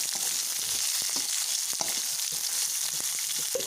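Green chillies and brinjal frying in a pan as they are stirred together, a dense continuous sizzle with scattered scraping strokes of the spoon throughout, close and fairly loud.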